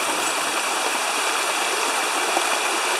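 A small waterfall on Bear Creek rushes in a steady, loud hiss of falling water, close by and continuous, with no voices.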